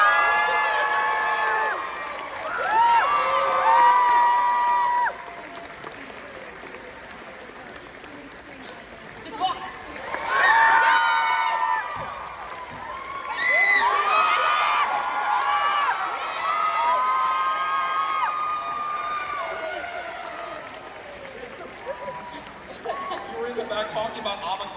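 An audience at an anime convention panel for Jujutsu Kaisen claps and cheers in repeated bursts, with whoops and shouts rising over a host speaking into a microphone.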